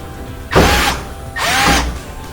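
A power drill backs screws out of the top panel of a loud Samsung dryer, two short whirring bursts close by with a brief pause between them.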